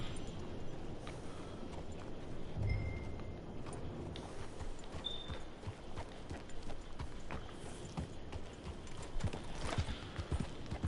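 A horse's hooves clip-clop steadily in Red Dead Redemption 2 Online, a brisk, even walking rhythm up close with faint mechanical creaks and small jingles around it.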